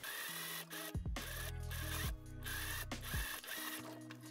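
A sewing machine stitches the side seams of a corset in quick bursts, its needle mechanism clattering rhythmically and stopping briefly between runs, close and clear.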